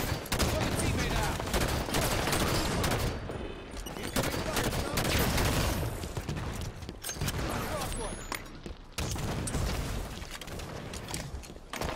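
Dense, continuous gunfire from Halo 5 in a big team battle match, loud rapid bursts and booms layered back to back with a voice talking over the action.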